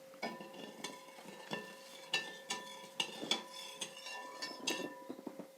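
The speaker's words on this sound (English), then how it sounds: "do you want to mix that in till it's dissolved?" A utensil stirs salt into water in a container, making a quick rhythmic series of light clinks and scrapes, close and fairly soft, with no voices.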